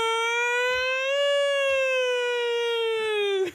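A voice in a movie imitates a siren with one long sustained wail that rises slightly and holds steady before cutting off abruptly, loud and close.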